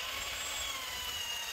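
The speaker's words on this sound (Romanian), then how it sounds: "Voi continua cu testul pentru găurire în lemn." A Parkside PBH 1500 F6 1500 W rotary hammer with a self-feeding flat spade bit drills into wood. It gives a steady, fairly quiet whine with faint tonal hum and no talk.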